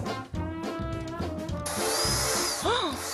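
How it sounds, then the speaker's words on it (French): A power drill bores holes into wooden boards, its whirring motor rising and winding down in bursts with gritty cutting noise, close and steady. "Olivier prend les mesures et fait 2 trous de chaque côté des 3 planches."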